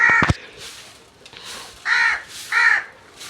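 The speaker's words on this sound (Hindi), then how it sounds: "इसी तरह कौवा जी देखें इतनी बातें बना रहा है" A crow caws loudly and close by in a garden setting, giving a quick double call followed by two longer, harsh caws spaced about a second apart, with quieter calls between them.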